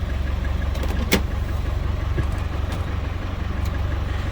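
Indoors, a 1994 Land Rover Defender 90 diesel engine idles after a cold start, a steady, loud, close mechanical rumble with an even throb throughout.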